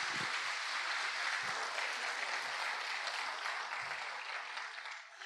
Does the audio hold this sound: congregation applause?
yes